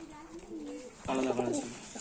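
Pigeons for sale, white and golden fancy breeds, give soft close cooing, a low coo early on and a fuller burst of cooing in the second half.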